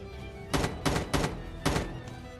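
Weapon reload in Call of Duty Mobile: four short, loud mechanical clacks and thunks in quick irregular succession over a low background hum, alone with no talk.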